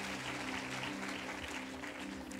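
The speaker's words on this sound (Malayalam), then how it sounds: "പക്ഷേ അതിനൊരു കൈയടി ഇവിടെ കൊടുക്കും" Audience applause at a Malayalam Christian sermon, a steady wash of clapping from a crowd, fairly faint and continuous throughout.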